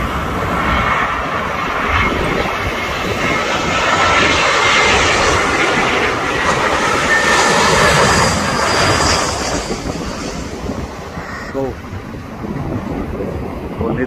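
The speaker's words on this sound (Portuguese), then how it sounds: "Airbus A321 da Finnair" A Finnair Airbus A321 passenger jet roars past, its loud broadband engine noise swelling and holding for most of the stretch before easing off, with wind buffeting the microphone.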